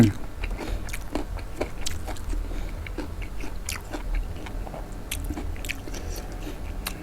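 Close, crunchy chewing and biting on pig ear eaten with a pounded bean salad, with repeated sharp bites and wet mastication throughout, and a soft murmuring voice now and then.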